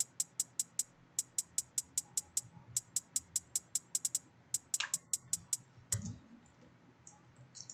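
A crisp trap hi-hat from a drum kit ticks in a steady, fast, evenly spaced pattern, fairly loud and dry, then pauses and stutters near the end, with faint low sounds beneath.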